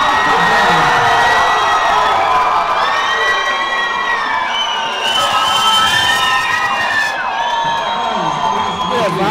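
A loud, close crowd at a fight event cheers, shouts and whoops for the winner, with high-pitched excited voices rising and falling throughout and talk mixed in.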